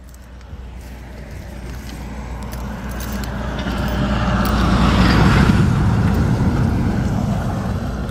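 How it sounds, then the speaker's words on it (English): Crane trucks roll past outdoors near a house, a steady broad rumble swelling louder toward the middle and then easing slightly, continuous and fairly close. "Crane boys going by with their trucks"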